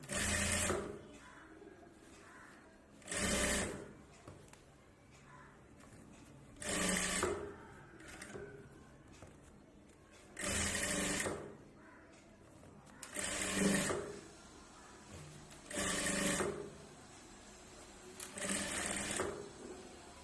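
Sewing machine stitching piping onto a knit dress for a two-year-old, running in seven distinct bursts of rapid whirring separated by short pauses, close and clear with faint room noise between runs.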